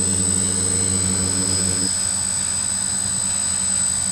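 A DJI Flame Wheel 450 quadcopter with a NAZA controller flies close by, its propellers giving a loud, steady buzzing whine that shifts pitch partway through.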